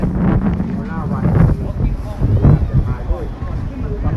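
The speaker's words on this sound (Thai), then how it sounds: "ลมแรงเลยนะฮะ" Strong gusts of wind buffet the microphone at the Khao Kho wind turbine field in Thailand, a loud continuous roar rising and falling in surges, with voices talking over it.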